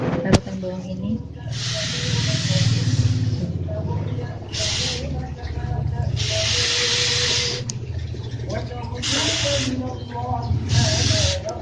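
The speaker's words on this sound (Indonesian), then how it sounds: "Kita semprotkan larutan bawang ini." Onion solution is sprayed from a handheld sprayer onto aphid-infested mustard greens in a vegetable garden, giving repeated bursts of hissing spray with pauses between them, over a steady low background hum and occasional talk.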